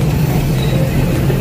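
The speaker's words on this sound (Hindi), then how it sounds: "इज्जत नगर साइड का लोकोमोटिव लगा हुआ है डीजल।" A YDM-4 diesel locomotive hauling a crowded meter-gauge passenger train, a loud continuous low engine drone close by, steady and unbroken.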